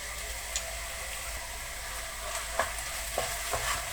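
Spiced chicken egg roll filling with two kinds of chilies and turmeric is stirred in a pan over medium heat, giving a steady sizzle with a few soft scraping clicks of the spoon. No talking.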